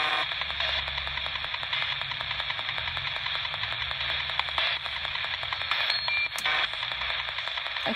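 A ghost box radio sweeps through hissing white noise static, a harsh continuous wash with rapid choppy pulses and brief gaps as stations flicker past.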